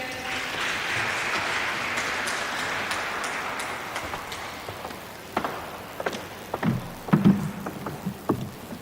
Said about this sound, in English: Please, let's clap hands for them.